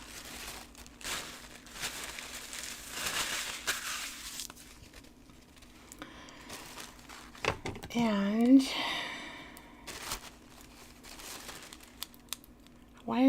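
Soft crinkling and rustling of thin one-ply paper being shaken comes in short bursts, with a voice speaking nearby over it.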